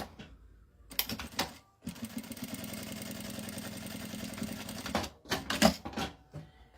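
A sewing machine stitches a short seam to divide a fabric wallet pocket, a rapid rhythmic clatter lasting about three seconds, framed by shorter bursts and handling noises.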